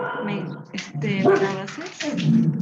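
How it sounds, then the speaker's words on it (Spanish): Dogs bark and yip in the background during a home online genetics class, their short, repeated barks mixed with a person speaking over them. "Perdón por los perros"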